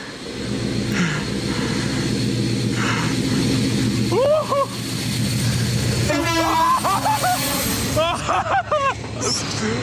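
A heavy Class 56 diesel locomotive rumbles past with a loud, steady engine roar and clattering wheels, while people talk excitedly over the noise.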